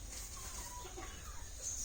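Chickens, including a rooster, clucking softly in a coop on a rainy day in a Ratnagiri garden, faint and distant over a steady background hiss.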